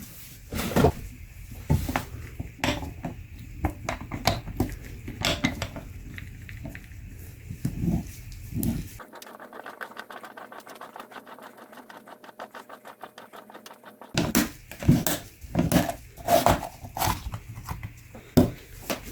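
A Toyota 90915-YZZN1 factory oil filter being cut open with a rapid mechanical cutting tool, loud clattering strokes, then a steady fine buzzing whir, then more heavy knocking and clanks.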